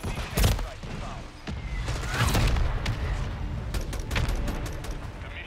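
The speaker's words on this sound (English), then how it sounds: "Friendly precision airstrike inbound." Call of Duty precision airstrike pounding the map with a rapid string of heavy explosions and gunfire-like cracks, loud and dense, with game voices in the background.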